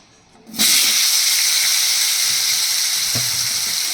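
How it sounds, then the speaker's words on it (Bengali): Potatoes dropped into hot oil, already used for frying rui fish, burst into a loud, close sizzle that starts suddenly after a moment of quiet. The hiss stays bright and steady with small bubbling pops. "এবার আমি এর মধ্যে দিয়ে দিচ্ছি, এই তেলটার মধ্যে দিয়ে দিচ্ছি আলু"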